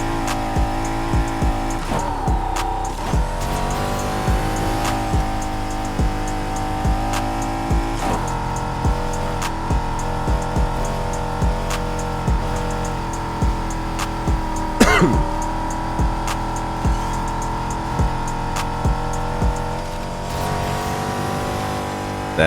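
A Honda NSX races in the video game Need For Speed Heat: its engine roars steadily at high revs, with pitch rising and dropping through repeated gear shifts and an occasional sharp tire or impact burst.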